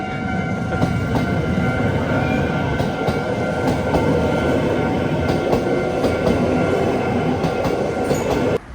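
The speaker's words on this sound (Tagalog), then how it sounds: "Parating na yung tren." A train rumbles steadily closer with a rattling, metallic roar and faint squeals, loud and continuous with no talking, cutting off abruptly at the end, in a neighborhood in Togane, Chiba, Japan.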